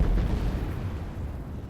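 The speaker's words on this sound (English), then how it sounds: "Cannons are so dangerous, man." A loud, deep boom of cannon fire in the video game Medieval 2 Total War, one big blast at the start that rumbles away over the rest of the clip.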